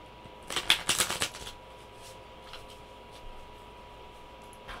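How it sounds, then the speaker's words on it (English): A deck of playing cards being shuffled: a short, crisp riffling burst of rapid clicks near the start, then near silence with a few faint rustles. "I'm gonna shuffle this."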